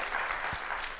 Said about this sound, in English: Please welcome him with the applause.